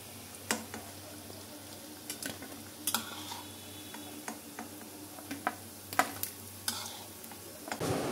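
Pumpkin fritters fry quietly in oil, a soft steady sizzle broken by scattered sharp clicks and taps of a utensil against the pan.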